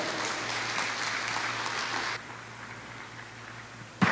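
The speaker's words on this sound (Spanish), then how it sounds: "Le damos un fuerte aplauso" Applause from a church congregation, a dense wash of clapping that drops abruptly to a softer level halfway through, ending with a sharp knock.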